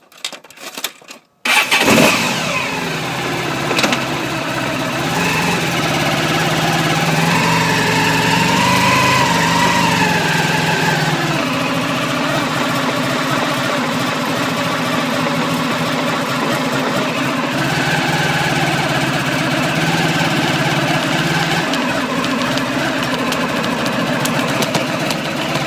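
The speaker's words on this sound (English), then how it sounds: "Start the engine up." A motorbike engine catches and runs at a steady, fairly loud idle with a slightly uneven, buzzing note and some revving, close by and without speech.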